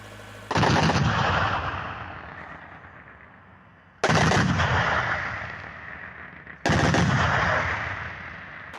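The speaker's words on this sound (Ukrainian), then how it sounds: "Він оснащений двома гарматами швидкострільністю 550 пострілів на хвилину." Three loud, sharp bursts from a twin-gun anti-aircraft cannon firing 550 rounds per minute, each a rapid roaring volley that decays slowly, separated by brief pauses of a few seconds.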